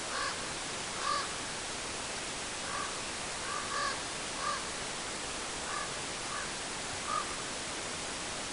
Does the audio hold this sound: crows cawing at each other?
yes